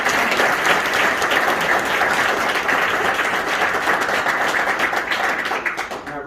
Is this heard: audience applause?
yes